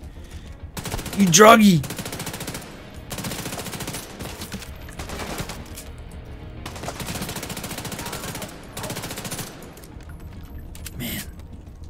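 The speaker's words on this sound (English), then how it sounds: "it's so enjoyable to fire some weapons in this game" Bursts of automatic weapon fire from The Division 2, with a loud sharp burst near the start followed by repeated rapid volleys spaced across the clip, while someone talks over it.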